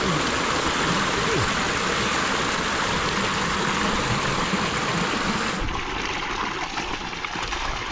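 Water gushing steadily from a pipe into a rice paddy, a loud continuous rushing flow that holds constant throughout and shifts slightly in tone near the end.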